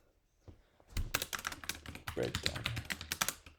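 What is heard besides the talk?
typing on a computer keyboard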